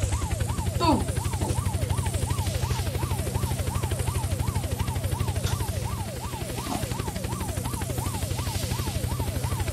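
Aircraft flying overhead in the video game Unturned, a steady rhythmic helicopter-like rotor thrum with a wavering pitch sweep, loud and continuous, with people talking over it.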